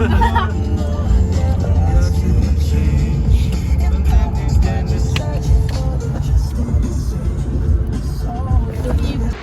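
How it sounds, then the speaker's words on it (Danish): Heavy traffic rushes past outdoors, with many cars making a dense, continuous roar and occasional engine swells, with voices mixed into the noise. "der kører sygt mange biler herude"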